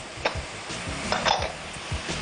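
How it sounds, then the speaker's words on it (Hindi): A spoon stirs crushed red pepper and lemon juice together in a bowl in a studio kitchen, giving a few quick scraping strokes and light clinks against the dish, close and fairly loud. "Mix everything well."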